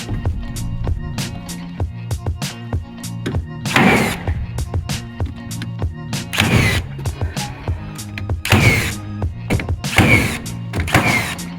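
A nail gun fires while a porch is being framed, giving a rapid series of sharp, loud pneumatic thunks spaced about half a second apart, with louder bursts mixed in over faint background noise.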